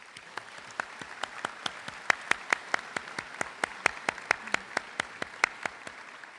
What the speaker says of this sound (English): Take a round of applause right now, folks.